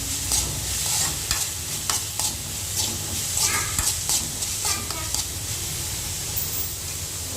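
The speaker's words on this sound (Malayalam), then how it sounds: "ആവശ്യത്തിനുള്ള ഉപ്പിട്ട് കൊടുത്ത് നന്നായിട്ട് ഇളക്കി കൊടുക്കാം" Soya chunks seasoned with salt are stirred in a hot pan, with a steady sizzle and repeated scraping strokes of the spoon, close and clear, with a voice speaking over the cooking.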